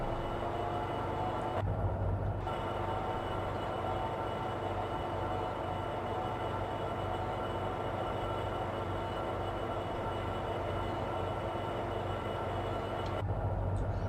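A train rumbles steadily throughout in the Open Rails train simulator game, a continuous close, loud rail-running drone with no talk.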